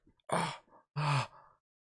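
Two loud, heavy breaths drawn and pushed out close to the mic by someone wearing a tight Halloween mask, each a rough, breathy rush with a short pause between.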